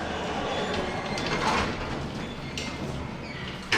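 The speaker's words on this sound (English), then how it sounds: "Doors closing." Doors of an Otis hydraulic hospital lift slide shut with a steady mechanical rumble and whoosh, followed by a short clunk as they close, heard up close with no talking.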